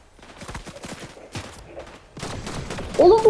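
Shotgun blasts from a battle royale video game ring out in quick sharp bursts, several close reports stacking up and growing louder toward the end, amid other game noise.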